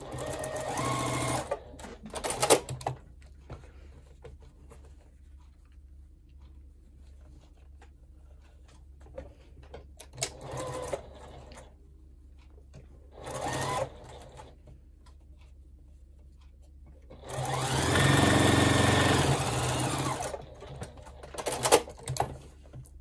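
Sewing machine stitching scrappy quilt block pieces for a Barn Door block, running in several short bursts and one longer steady run near the end, close and fairly loud with quiet pauses between.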